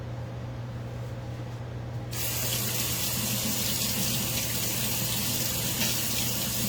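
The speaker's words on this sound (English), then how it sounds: "I'm just going to rinse off my small offset spatula." Tap water runs into a kitchen sink while a small offset spatula is rinsed during cake decorating, starting as a low hum and swelling into a steady, close, full rush of water after a couple of seconds.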